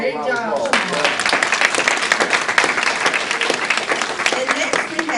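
An audience at a school district board meeting applauds in a dense, steady round of clapping that lasts the whole stretch, close and fairly loud.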